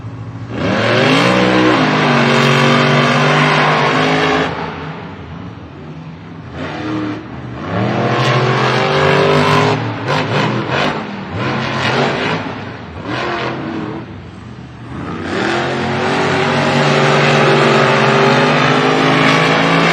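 El Toro Loco Stars and Stripes monster truck makes its qualifying pass at the Monster Jam World Finals, its engine revving hard in loud surging bursts that drop away briefly in the middle before roaring back up.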